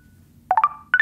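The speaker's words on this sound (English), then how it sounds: "recognize that's the sound of a Tinder match" A short electronic notification chime of the Tinder match kind: three quick rising tones, a pause, then two more bright tones, clean and alone against a faint low hum.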